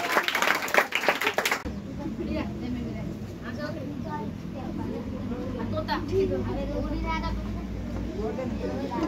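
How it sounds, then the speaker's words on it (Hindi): After a group sings happy birthday at the Adarsh Nagar Hindu Refugee Camp in Delhi, a short burst of clapping is heard. It stops abruptly, and close talking and background chatter follow. "तालियां बजाओ जोर से।"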